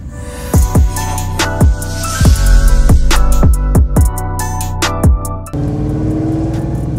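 Ford GT with KW suspension and Heffner Performance upgrades driving in second gear, its engine note loud and close, with repeated sharp percussive pops or clunks through the first part before the tone turns steadier and smoother.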